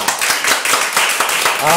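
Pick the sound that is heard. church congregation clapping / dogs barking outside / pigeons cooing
church congregation clapping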